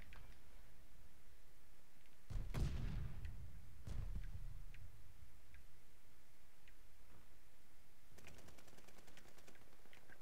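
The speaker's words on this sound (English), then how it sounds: "I'm hearing gunshots." Gunfire in the Call of Duty: Vanguard multiplayer game: one loud burst with a rumbling tail, then a second shot and scattered faint distant pops, ending in a quick rapid rattle of automatic fire.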